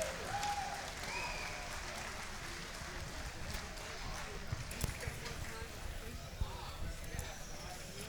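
Faint, continuous crowd applause at a regional MMA cage event in Butler, PA, cheering a new 135-pound champion, a distant wash of clapping with a few sharper claps and an announcer's voice over it.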